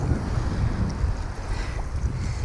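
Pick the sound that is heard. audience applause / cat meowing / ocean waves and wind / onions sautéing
ocean waves and wind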